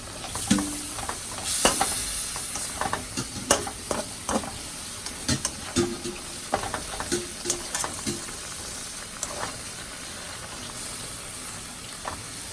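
Chicken and vegetables sauté in a pan, a soft sizzle running beneath repeated scraping and clattering of a stirring spoon, with the strokes irregularly spaced over several seconds.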